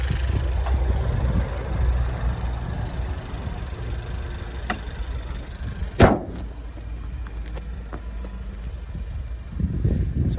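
A 2018 Honda Civic EX with the Earth Dreams turbo engine idles smoothly and steadily, a low constant rumble heard close, broken by one sharp thump near the middle, likely the hood closing.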